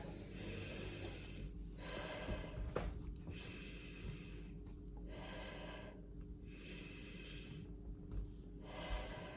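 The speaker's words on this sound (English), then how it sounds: "So they're quite short, quick breaths" Short, quick breaths in and out repeat in a steady rhythm, soft and close, each puff a brief airy burst with pauses between, no talking.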